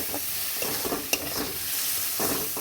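Spatula stirring a masala of chilli, ginger, onion, garlic, cumin, coriander, turmeric and Kashmiri chilli frying in oil, a steady close sizzle broken by scraping strokes and one sharp clack.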